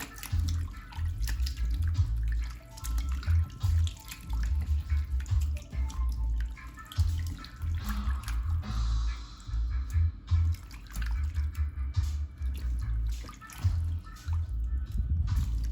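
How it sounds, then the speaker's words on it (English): Raw chicken is washed in water with vinegar, giving close splashing, sloshing and dripping from handling in a bowl or sink, with irregular bursts and no talk. "wash it first with the vinegar."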